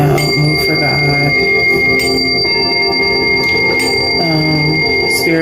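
Sound-healing bells and chimes ring together continuously, loud and close, with overlapping sustained metallic tones and occasional brighter strikes layered into a shimmering wash.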